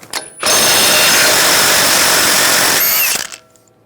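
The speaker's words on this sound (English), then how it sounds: "Using a 36mm socket, I'll take this nut off" Power tool spinning a 36mm socket to remove a nut on the front lower control arm of a 2011-2018 Ram 1500, one sustained loud whirring burst of about two and a half seconds, close up.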